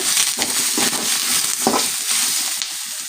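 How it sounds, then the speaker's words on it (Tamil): Tomato, onion and curry leaves sauté in a pan with a bright hissing sizzle and repeated scraping stirs every half second or so, loud and close, no voices over it. "இப்போ கருவேப்பிலை போட்டுக்கலாம் போட்டு நல்லா வதக்கி விட்டுட்டு"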